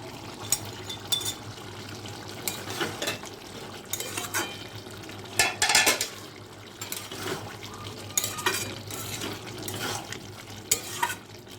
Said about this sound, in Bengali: এখন আমি উপর থেকে বড়াগুলো দিয়ে দিচ্ছি।